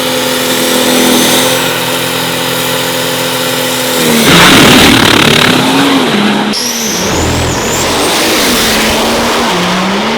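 A loud, close Pro Dragster diesel engine at a drag race roars and over-revs hard, its pitch climbing then dropping and surging again, with raspy exhaust noise and no talking.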